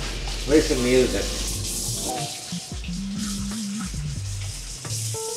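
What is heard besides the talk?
water running while washing hands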